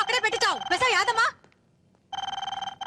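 A telephone in a Telugu film scene rings in a steady run of rapid electronic pulses, loud and close, starting after a short stretch of animated talk and a brief pause.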